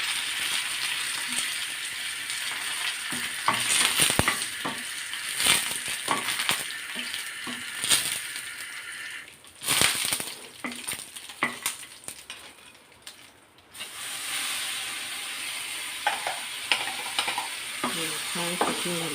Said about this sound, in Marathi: आता आपण कडीपत्ता टाकूया त्याच्यात आणि सुक्या मिरच्या घेतलेल्या आहेत